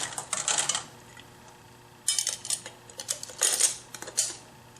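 A hot metal canning lid and ring handled during bean canning, giving bright metallic jingles and clinks in two or three close bursts over a low steady hum.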